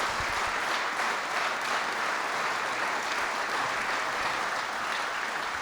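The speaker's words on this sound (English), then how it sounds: "Would you give them all another round of applause?" Steady, full-room applause from the audience for administrators and secretaries at a presidential energy executive order signing, continuous and even with no talk over it.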